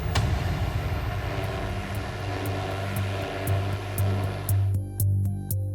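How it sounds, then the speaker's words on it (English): A police drone flies overhead during a chase through gardens, its steady propeller drone holding loud and close, with a rhythmic pulsing whine rising toward the end. "what he couldn't evade was our police drone"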